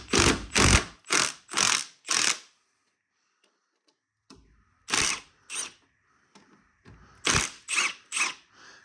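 A wrench works the 12mm bolts on the front of a roof rack on a GX470: two bursts of five and four sharp, close ratchet clicks, separated by a pause and a few softer clicks.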